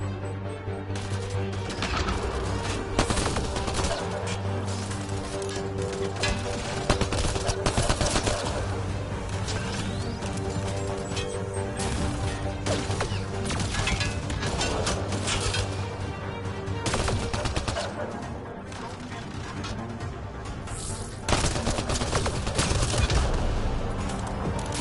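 Dense, continuous gunfire from a Mass Effect Andromeda firefight, with rapid bursts and sharp shots layered over game music and effects, staying loud throughout without letting up.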